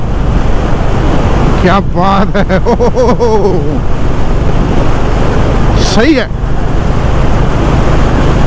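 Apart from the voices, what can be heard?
strong wind blowing, dust flying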